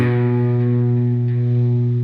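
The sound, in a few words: electric guitar played through an overdrive pedal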